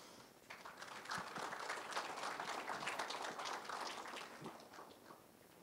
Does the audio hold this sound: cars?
no